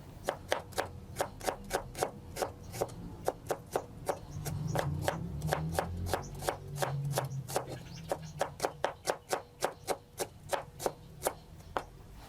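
Rapid, crisp knife strokes chop through shallots on a cutting board, a steady rhythmic tapping with brief pauses, close and fairly quiet.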